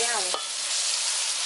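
Long eggplant stir-fries with shrimp paste in a pan, giving a brief, steady, close hiss of frying just after a short vocal sound at the start.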